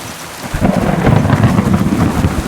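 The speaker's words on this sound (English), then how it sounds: "It's a really bad stormy day to go for battle" A thunderstorm with rain in the medieval video game Kingdom Come Deliverance 2: a deep thunder roll swells after a brief lull over steady rainfall, loud and close, with no talking.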